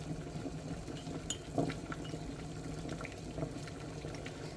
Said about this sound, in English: we got a good rolling boil going on this.